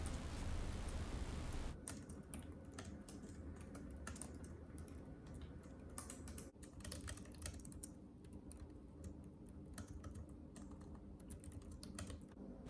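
A Logitech K380 keyboard is typed on at close range, its quiet, rapid clicking keystrokes pattering steadily over a low background hum after a brief rush of noise at the start.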